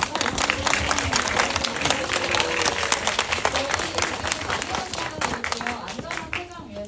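Audience at a film festival guest visit session claps steadily and fairly loudly for several seconds, dense overlapping hand claps with crowd murmur and voices talking underneath.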